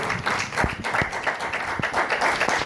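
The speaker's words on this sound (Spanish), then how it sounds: "Puede darle un fuerte aplauso a Cristo." Applause from a church congregation, a dense patter of many hands clapping steadily at moderate loudness throughout, with a few sharper individual claps standing out.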